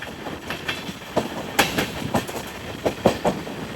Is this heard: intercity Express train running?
yes